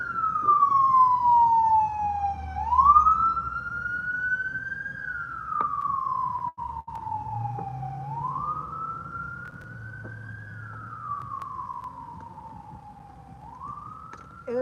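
A fire department car's wailing siren rises and falls slowly in long sweeps as it passes outside, fairly clear over low traffic rumble.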